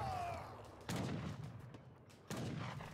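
Two sharp gunfire volleys from a town center and blockhouse in Age of Empires 3 strike about a second and a half apart, moderately distant and fairly quiet, each with a short decaying tail over battle ambience.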